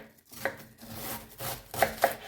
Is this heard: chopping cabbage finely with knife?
yes